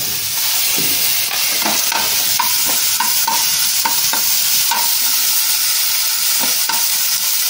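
Flat beans with a little shrimp are stirred in a hot pan for a Bengali village-style shim bhorta. A steady sizzle runs underneath repeated scraping strokes of the spatula, close up, with no talking.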